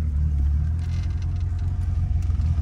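A VW Gol Turbo engine rumbles steadily in a low, continuous drone close by, with no clear rising rev, heard alone without talk.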